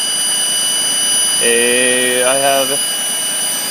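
A GM 3400 engine running with a strange fault gives a steady whine with a high constant tone, and a wavering, squeal-like wail rises over it for about a second while someone briefly speaks.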